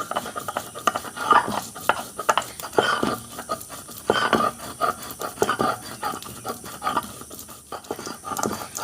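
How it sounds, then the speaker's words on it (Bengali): Soaked rice being ground by hand into a fine paste on a stone, irregular scraping and rubbing strokes in uneven bursts, moderately loud and close with no speech. "আগে চালটা আমি ভালো করে মিহি করে বেটে নিই"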